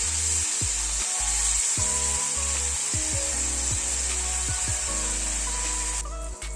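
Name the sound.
paneer frying in oil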